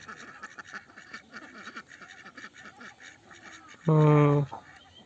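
A flock of domestic ducks sunning in a village gives soft, scattered calls, then one loud, close, nasal quack rings out for about half a second before the quieter chatter resumes.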